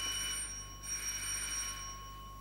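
A doorbell rings indoors in a 1982 Czechoslovak TV drama. It gives a sustained electric bell tone with a short break, set against a steady hum.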